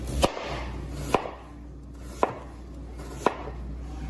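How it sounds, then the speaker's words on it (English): A knife slices through sweet potatoes on a cutting board in four sharp, evenly spaced cuts, each a crisp thud against the board, close and otherwise quiet. "just about finished slicing up the sweet potatoes"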